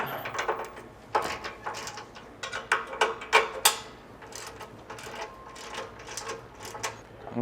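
Security bolts are snugged up on a catalytic converter shield under a 2022-or-newer Toyota Tundra, a faint series of irregular clicking and ratcheting ticks close by, with no voice.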